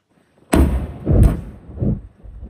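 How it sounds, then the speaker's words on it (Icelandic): An underwater naval mine is detonated in the sea in Eyjafjörður, Iceland, giving a heavy, booming thud followed by several deep rumbling surges that fade over a couple of seconds. "Það var núna rétt fyrir klukkan 1 sem að þeim tókst loksins að sprengja tundurduflið hérna ofan í sjónum í Eyjafirði"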